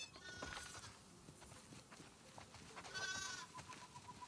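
Sheep bleat and call in The Last of Us 2 video game, a few faint animal cries over quiet shuffling and hoof-like clatter in a barnyard setting.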